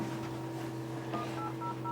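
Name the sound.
elevator emergency phone dialing the service center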